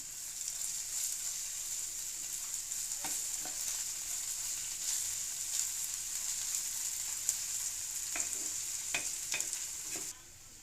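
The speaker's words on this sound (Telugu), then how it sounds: "ఇవి లైట్గా వేగిన తర్వాత 1 స్పూన్ జింజర్ గార్లిక్ పేస్ట్ వేసుకుని మరి ఒక 2 నిమిషాలు మగ్గించుకోవాలి." Ginger garlic paste sautéing in a pan while cooking okra masala, a steady low sizzle throughout with occasional utensil taps and scrapes toward the end, quiet and without speech.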